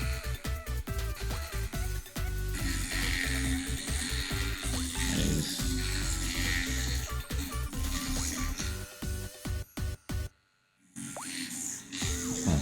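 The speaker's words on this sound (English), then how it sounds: "I'm just gonna drill in." A small rotary drill bores into a carved pumpkin, giving a steady wet grinding buzz broken by squishy pulses, with a brief pause near the end before it resumes.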